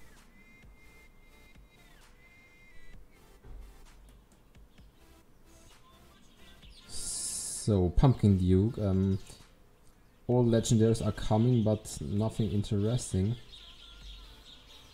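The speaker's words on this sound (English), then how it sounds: "There are so many birds next to me at the window." Many birds chirp outside a window, thin scattered calls sitting faintly beneath louder, animated talk and game sounds.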